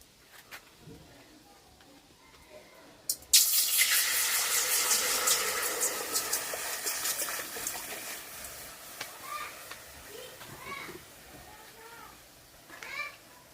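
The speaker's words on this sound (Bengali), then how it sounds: "এখন কড়াইয়ে জল দিয়ে দেব।" Water pours into a hot wok in a sudden loud rush that hisses and gushes for several seconds, then fades to trickles and light clinks while a voice talks quietly underneath.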